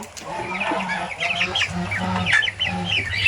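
Tiger breed chickens on a small backyard farm cluck and chatter in repeated short calls, close and lively, with faint talk in the background.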